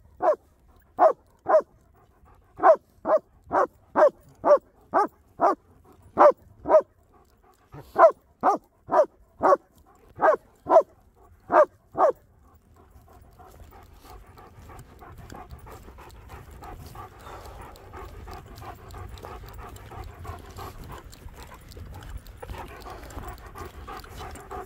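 Pet dogs bark in a sharp, regular series of loud barks close by for about twelve seconds, then settle into quieter, continuous panting.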